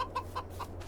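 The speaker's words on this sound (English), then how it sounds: "And there's our chickens hanging around." Chickens cluck in short, repeated bursts inside a Farming Simulator 22 farm, four or five soft calls spaced evenly over a steady low hum.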